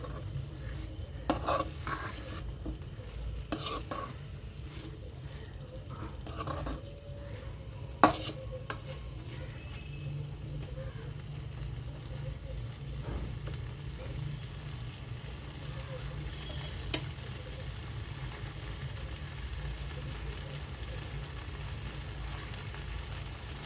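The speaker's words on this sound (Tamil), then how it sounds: "இந்த மசாலாவோட இந்த வெஜிடபிள்ஸும் மட்டனும் நல்லா வந்து மிக்ஸ் ஆகணும்." Mutton and vegetables being stirred with masala in a pan: a steady low sizzle runs throughout, broken by scattered clinks and scrapes of a spoon against metal, with faint talk in the background.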